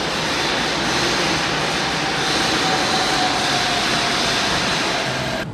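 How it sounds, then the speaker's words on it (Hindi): Loud, continuous rumble and roar of a metro train in a station, a dense wash of noise with a faint high whine running through it. "यार बहुत शोर हो रहा है मेट्रो स्टेशन पे,"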